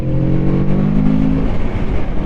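A Kawasaki Z650RS motorcycle revs hard under acceleration, its engine loud and close with a steady rising drone that holds for about a second and a half before turning rougher.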